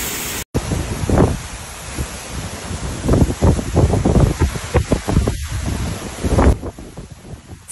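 Hurricane Milton's winds roar across Florida near Tampa and St. Petersburg in a continuous loud rush, with heavy gusts buffeting the microphone and swelling and easing throughout.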